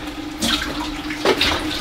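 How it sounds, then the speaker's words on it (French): Liquid drained from opened cans of beans, a short close splash and pour of water, two brief gushes over a faint steady hum. "On les égoutte les boîtes."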